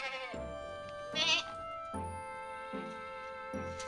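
Black-and-white goat on a Philippine farm giving several bleats, one louder wavering call near the start among repeated shorter ones, fairly close over a quiet background.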